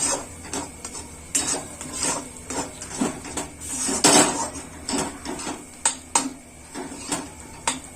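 A metal spoon stirs masala mushrooms in a cooking pan, producing irregular scraping and clinking knocks every half second or so, close and fairly clear with no talk over it.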